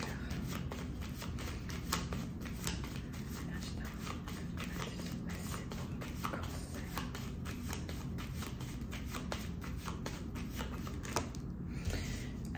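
A 32-card deck of playing cards is shuffled over and over, making a continuous run of quick papery riffles and flicks, close and fairly quiet, with no talking.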